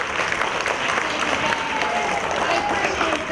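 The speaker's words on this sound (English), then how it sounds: "Can you show me how to clap?" Students at a school geography bee clapping together, a dense, steady round of applause from a roomful of children that holds evenly throughout, with faint voices mixed in.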